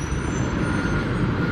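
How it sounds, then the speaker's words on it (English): Buses pull into the newly opened Crewe bus station, a steady, loud engine rumble and road noise close by with no talk. "the buses are coming in forward"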